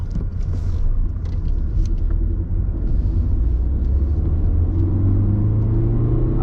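The 1.5 dCi K9K diesel engine of a 2021 Renault Mégane 4 Estate roars steadily up close, its deep droning note holding and climbing slightly as it runs hard throughout.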